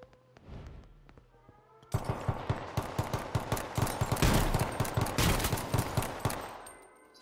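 A riot shotgun fires in the H1Z1 battle royale game. A couple of sparse shots are followed by a loud, rapid, evenly spaced run of blasts that continues to the end.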